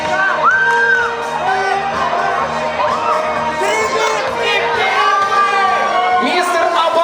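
Loud crowd at the Mister INZHEK 2012 pageant cheering and whooping, with shrill high-pitched shouts and excited voices rising over continuous noisy applause.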